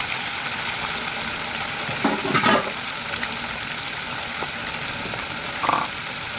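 Chicken frying in ghee in a pan, a soft steady sizzle with a few brief stirring scrapes and a louder burst midway and near the end.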